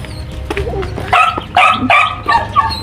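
A dog barks repeatedly in quick, loud yaps close by, over a low background rumble.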